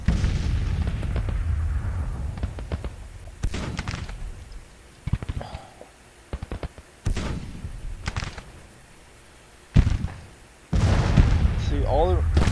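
Artillery fires in Grand Tacticians: The Civil War, several loud booming shots spaced irregularly over a rumbling battlefield background, each followed by a short decay.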